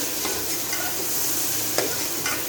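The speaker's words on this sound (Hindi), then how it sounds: "मज़ीद हम 1 मिनट के लिए अच्छे से कर लेते हैं लहसुन अदरक के पेस्ट को भी फ्राई।" Chicken fries with garlic-ginger paste in a pan, a steady loud sizzle with occasional stirring scrapes, no talking over it.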